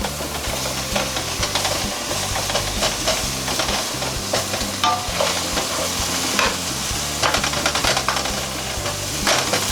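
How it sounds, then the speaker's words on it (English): Onions sizzle and crackle in a hot skillet, stirred with frequent scraping and clinks, a steady close frying hiss running throughout. "So the first thing I'm gonna add in my skillet now is gonna be my onions."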